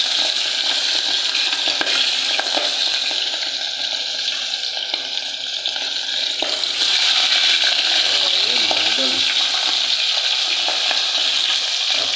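Loud, constant sizzling and crackling of galunggong fish frying in hot oil, a bright hiss that holds steady throughout.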